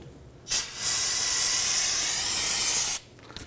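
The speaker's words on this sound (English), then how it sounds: "go ahead and use your spray solvent" A loud, steady hiss of aerosol brake-cleaning solvent sprayed while bleeding the brakes on a 2010-2019 Ford Taurus, lasting about two and a half seconds, starting and stopping abruptly.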